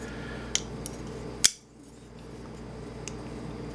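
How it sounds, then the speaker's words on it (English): A Bradley Alias folding knife's lock bar shifts under grip, producing a couple of small sharp metallic clicks, the second louder, followed by a quieter tick later against a soft background hiss. "the lock bar noticeably moves in your hand, which creates a little bit of lock stick"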